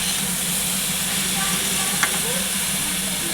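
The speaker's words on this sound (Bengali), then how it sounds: "তো সবজিগুলোকে আমরা হালকা ভেজে নেব" Mixed vegetables fry lightly in a pan for a diet chicken dish, giving a steady soft sizzle and hiss with a brief clink of stirring partway through.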